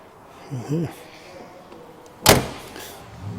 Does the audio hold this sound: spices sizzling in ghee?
no